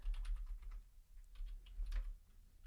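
Quick bursts of keys clicking on a computer keyboard, close by and fairly soft, typed in short runs over a low steady hum during a coffee-brewing session.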